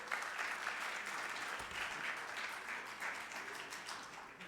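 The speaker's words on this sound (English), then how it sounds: "Give yourself an applause." An audience at a keynote event applauds continuously, a moderately loud, even crackle of many hands clapping with no voices above it.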